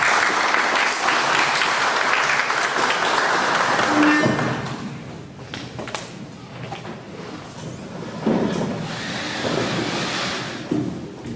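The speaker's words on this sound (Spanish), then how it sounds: "para quien pido un fuerte y muy merecido aplauso" Strong applause from an audience at a formal evening event, loud for about four seconds, then dropping to a softer rumble of scattered clapping and room noise, with a second swell near the end.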